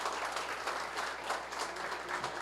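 Steady applause from a conference audience, many hands clapping evenly throughout at moderate volume.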